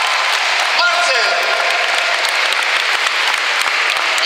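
Loud, sustained applause from a children's charity show audience is heard as a thick, continuous roar of clapping. A voice rises briefly near the start, and crisp individual claps stand out toward the end.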